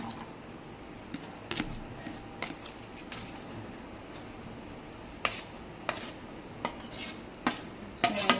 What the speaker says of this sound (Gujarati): તો હવે આપણે બધા મસાલા મિક્સ કરી દેવું